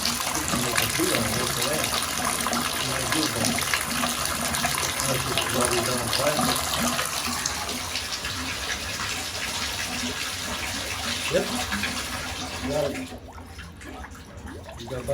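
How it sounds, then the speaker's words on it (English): Water gurgles and bubbles up in a backed-up toilet in a duplex with a blocked shared sewer line, a steady rushing, bubbling wash that drops off near the end, with a brief word spoken. "You got bubbles coming out of the toilet."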